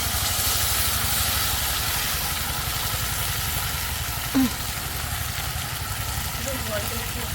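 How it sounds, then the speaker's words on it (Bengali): Ground spice paste frying for a fish-head curry in a kadai, giving a loud, steady sizzling hiss throughout, with one brief clink partway through. "মাছের মাথার যে রসা হবে সেইটার জন্য মশলা কষানো হচ্ছে"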